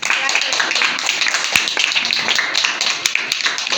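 A small group claps steadily and close by, sharp overlapping claps running throughout.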